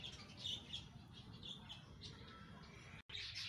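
Pigeons in a home garden, with pigeon chicks sitting inside a nest hollow, giving repeated squawks and chirps at mid distance over a steady low background hum, with no talking.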